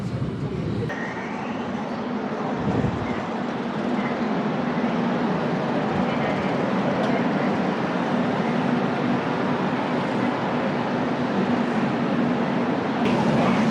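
An above-ground train runs through South Korean countryside on the Yangsu route, giving a steady loud rumble and rolling hum with a faint high whine, close and continuous throughout.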